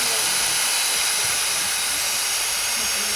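High-speed drill boring into a rhino horn, a dense, hissing whine held steady and loud throughout, with voices mixed in faintly.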